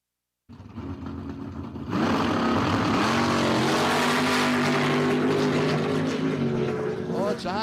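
Drag racing cars at Empire Dragway launch with a loud, close engine roar that jumps sharply in volume after a quieter idle and holds as a sustained, rising howl.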